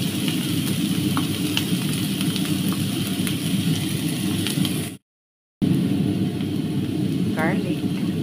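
Onions frying in hot oil in a home kitchen in Kuwait, a steady broadband sizzle running throughout alongside the hum of an exhaust fan, briefly cut out by a short gap before resuming.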